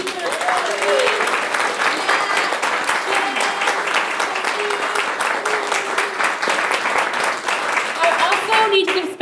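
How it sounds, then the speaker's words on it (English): A taproom audience at a live podcast event applauds its speakers in a dense, sustained round of clapping that stays loud throughout, with a few voices calling out beneath it. "Let's give another round of applause to all of our speakers."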